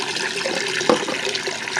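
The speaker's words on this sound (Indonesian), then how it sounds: "ini saya penuhin dulu airnya, baru nanti saya siram ke tanaman-tanaman" Water pouring steadily into a bucket at home, filled before watering a small front-yard garden; a continuous close splashing rush with one brief knock partway through.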